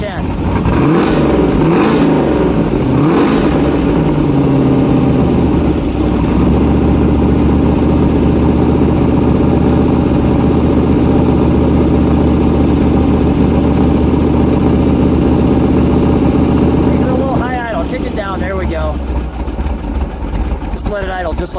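A 1969 Ford Boss 429 Mustang V8 with Kar Kraft factory specs rumbles loud and close, revving sharply at first, then holding a sustained high-rpm roar before dropping back to a lumpy idle, with brief talk near the end.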